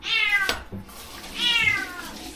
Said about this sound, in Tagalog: yung aming pusa na maingay